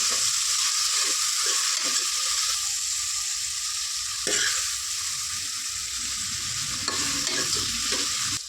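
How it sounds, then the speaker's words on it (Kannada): Tomato, ginger and garlic frying in a pan for vegetable pulao: a steady close hiss of sizzling with soft scraping stirs now and then, no voices. "ಅಲ್ಲಿವರೆಗೂ ಚೆನ್ನಾಗಿ ಫ್ರೈ ಮಾಡ್ಕೊಳ್ಳೋಣ"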